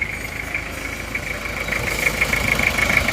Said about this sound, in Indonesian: Ini adalah bunyinya mesin Panther, mesin Kijang diesel ini setelah kita pakai sejauh 3 km.